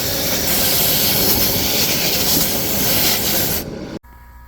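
Compressed air at about 140 PSI from an air compressor blasts refrigerator coils in a loud, continuous rushing hiss that cuts off abruptly, followed by a sharp click and near quiet.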